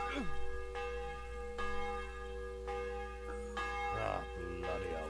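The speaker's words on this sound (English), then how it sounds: "It's just a bell." A church bell tolls repeatedly in Kingdom Come: Deliverance, each strike ringing out with a long shimmering decay, and other game sounds come in near the end.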